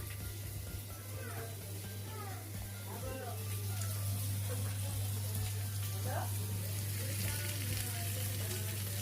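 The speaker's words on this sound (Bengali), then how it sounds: "এই মশলা কষা হচ্ছে" Spice paste sizzles in a pan with a low, steady frying hiss, under someone talking and a constant low hum.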